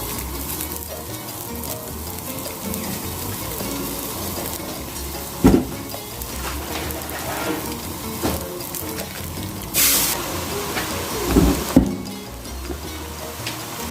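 Homemade curry paste is dry-fried in a pan without oil, giving a steady close sizzle and crackle broken by a few sharp scraping stirs, with no talking.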